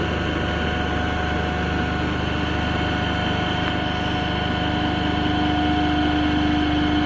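A DC shunt motor runs steadily at its rated speed of 1500 rpm, a continuous loud hum with a steady whine and faint vibration, alone and unchanging throughout.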